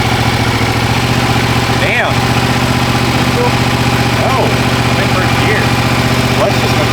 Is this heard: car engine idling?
yes